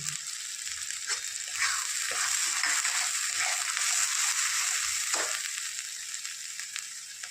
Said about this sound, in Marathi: यामध्ये मी 1 चमचा लाल तिखट व 1 चमचा एव्हरेस्टचा मटन मसाला टाकते।